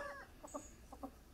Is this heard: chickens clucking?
yes